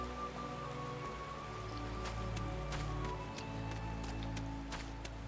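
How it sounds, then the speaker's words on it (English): Rain falling in the video game Final Fantasy XIV, a steady soft hiss of drops on surfaces with a few brighter splashes, accompanied by quiet sustained musical tones underneath. "This place even looks nice when it's raining."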